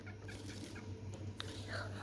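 A chicken clucks softly at close range, a few short clucks over a low steady background hum.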